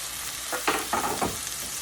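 Tomato frying in a pan for prawn curry made with frozen cooked prawns, with ginger garlic paste, stirred in a few short scraping bursts over a steady soft sizzle, close and moderately quiet.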